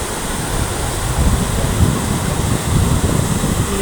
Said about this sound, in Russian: такой водопад